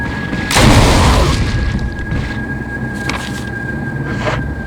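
Single loud boomy gunshot blast from a weapon in the Resident Evil HD Remastered survival horror game, with lighter follow-up thuds over a steady background hum.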